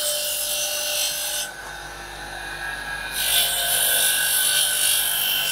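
Dry sanding of a natural agarwood bead being rounded, a steady harsh rasping scrape that pauses briefly then resumes louder, close and continuous with no talk.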